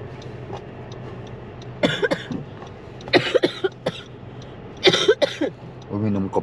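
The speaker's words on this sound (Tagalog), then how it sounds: "Tuloy na ubo ka." Several sharp coughs come in bursts, a couple of single hacks and then a quick cluster, close by over a steady low engine hum inside a car.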